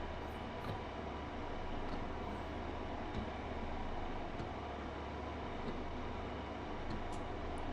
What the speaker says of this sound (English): we should slow the train down a little bit